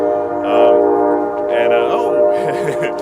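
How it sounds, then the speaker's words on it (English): A train passing near a rural home build site, with its horn sounding in long sustained blasts over rumbling rail noise while someone talks. "Train's coming by."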